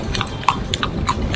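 A horse ridden near Edfu Temple in Egypt, its hooves clip-clopping in a steady, fairly close rhythm of sharp knocks over a low background rumble, with no talking.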